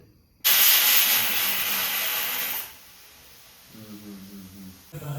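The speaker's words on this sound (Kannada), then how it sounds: "ಸಿಕ್ಸ್ ವಿಸಿಲ್ ಕೊಟ್ಟೆ ಆಫ್ ಮಾಡ್ತಿದ್ದೀನಿ" Pressure cooker cooking green gram releases a loud, sudden hissing whistle of steam that holds for about two seconds and then cuts off, leaving quieter background noise with faint clatter afterwards.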